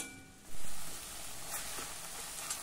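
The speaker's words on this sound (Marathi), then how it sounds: "आणि आता मध्यम आचेवर त्याला छान तेल सुटेपर्यंत जरा 2 मिनिट आपण ही भाजी परतून" Spring onion greens stir-fry in oil in a pan over medium heat, giving a steady soft sizzle that jumps at the start and then holds evenly, with faint scrapes of stirring and no voices.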